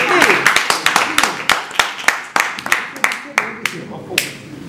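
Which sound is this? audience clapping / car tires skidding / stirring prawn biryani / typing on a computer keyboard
audience clapping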